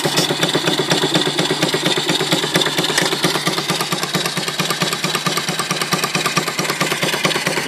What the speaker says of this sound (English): It's normal for a steam engine.